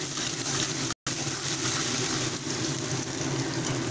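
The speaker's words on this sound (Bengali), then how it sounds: "এবার ভালোভাবে একটু ফ্রাই করে নেব।" Dried fish with salt frying in a pan, giving a steady, even hiss of sizzling oil that stays fairly soft and continuous, broken once by a brief cut, with no voices.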